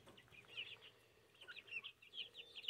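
Young free-range chickens cluck and peep softly in scattered short bursts, fairly faint and somewhat distant, with quiet outdoor background between calls.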